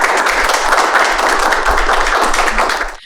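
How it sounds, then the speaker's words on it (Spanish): An audience at a conversatorio event applauds to welcome a speaker, dense sustained clapping filling the room at even strength before cutting off abruptly at the end. "Un aplauso para recibirla"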